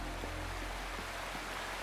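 A steady, broadband rush of falling water from a waterfall in the game Wuthering Waves, continuous and fairly close with no voices.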